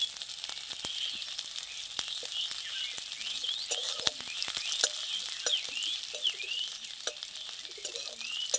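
Chopped onions frying in oil in a pan, a steady bright sizzle with soft crackles and occasional stirring taps, close and continuous without talk.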